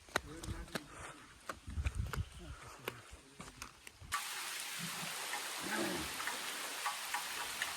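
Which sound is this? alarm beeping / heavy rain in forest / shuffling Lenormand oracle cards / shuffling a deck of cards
heavy rain in forest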